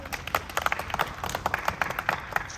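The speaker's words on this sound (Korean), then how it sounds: "박수로 모시겠습니다" An audience at a press conference in Iksan gives light, faint applause to welcome a speaker, with sharp individual claps scattered unevenly over a quiet room.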